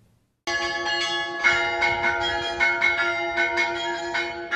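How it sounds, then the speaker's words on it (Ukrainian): Church bells ring out suddenly after a brief silence, a close, resonant peal of repeated overlapping strikes sustaining a bright ringing tone, with no speech. "Про благовіст, передзвін та дзвоніння дивіться у репортажі наших кореспондентів."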